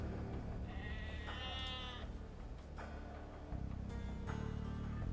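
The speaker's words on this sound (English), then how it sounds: "Oh, look at those sheeps." Sheep bleat repeatedly in Age of Empires II, several wavering calls over a steady game background hum, moderately close.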